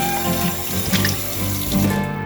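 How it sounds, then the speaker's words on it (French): Dirty water from houseplant care poured into a bathroom sink, a steady close splashing stream of water running and draining throughout, fairly loud and continuous with no talking. "je vous donne le droit au plan où je vire l'eau dégueu. Yes, et je dégueulasse mon évier de salle de bain"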